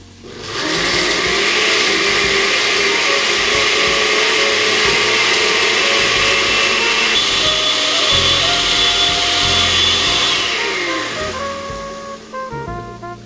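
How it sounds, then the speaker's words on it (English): A kitchen blender whirs loudly and steadily, blending adobo sauce ingredients with added liquid for pulled pork, the motor holding a constant roar for about ten seconds before winding down near the end. "Now we blend."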